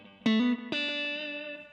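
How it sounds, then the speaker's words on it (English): Electric guitar played through a Roland Micro CUBE GX amp on a basic delay setting: two plucked notes, the second ringing on with sustained, slightly distorted tone and faint repeats, loud and alone. "first of all, we get basic delay settings."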